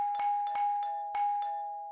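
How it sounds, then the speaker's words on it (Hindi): A doorbell rings again and again in quick succession, bright electronic chimes struck three times in under two seconds, loud and close, with no voices. "ऐसा कौन है जो इतनी घंटियां बजा?"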